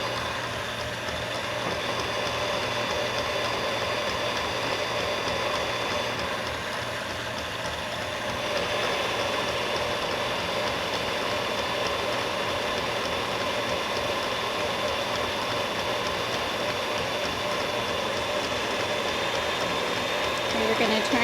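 An electric stand mixer whisks a marshmallow mixture of gelatin and sugar, giving a constant mechanical whirring hum that holds steady throughout, with a slight rise in intensity partway through.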